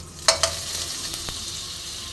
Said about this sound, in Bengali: কড়াইতে আমি সাদা তেল গরম করতে দিয়ে দিয়েছি। আমি দেখো 1 চামচ মাখন দিয়ে দিলাম